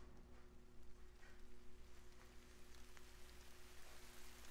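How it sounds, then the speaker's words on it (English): Timefall rain in the video game Death Stranding, a steady soft hiss of falling rain with faint scattered drops over a low constant hum, no voices. "There's the timefall that we've seen in all the trailers."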